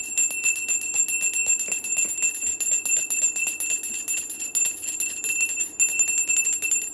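A hand bell rung indoors, rapid continuous ringing with bright sustained metallic tones and quick repeated strikes, loud and close, with a brief pause near the end before the ringing resumes.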